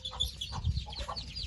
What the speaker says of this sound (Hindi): इधर भी एक मुर्गी बैठी हुई है अंडों के ऊपर